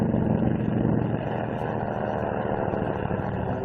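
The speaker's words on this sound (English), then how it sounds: "launching flight after flight of dive bombers and Avengers" Steady propeller drone of WWII carrier dive bombers and Avenger aircraft flying over Guam, a continuous low engine roar that holds evenly throughout, with no voices.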